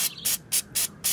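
An aerosol can sprays directly onto car brake pads in four short, sharp hissing bursts, evenly spaced and close by, with brief pauses between them.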